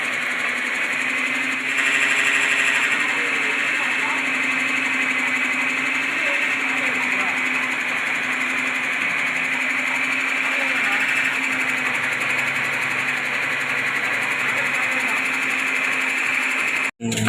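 A grinder whirs steadily as it grinds homemade kuzhambu chili powder from chillies in a village kitchen. The high motor whine drones on without a break, then cuts off abruptly at the very end.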